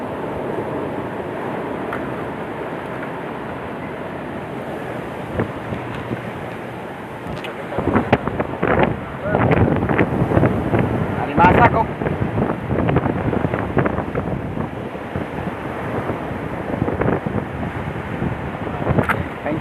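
Strong wind buffets the microphone on a small fishing boat at sea amid big waves, a steady roar with gusty bursts and knocks growing louder midway.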